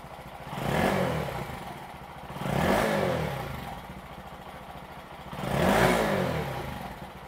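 A 2021 Honda Monkey on its stock exhaust ticks over at idle, then gets blipped three times, each rev rising in a smooth swell and settling back to the steady idle, heard fairly close with no talking.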